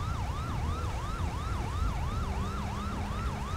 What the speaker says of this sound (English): Probably just turn my sirens off until I get close to the street.